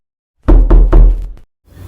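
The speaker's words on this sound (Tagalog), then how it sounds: "Kumatok siya sa bahay ng panganay." Three loud, close knocks land on a house door in a quick even rhythm, followed by a fainter fourth tap and silence.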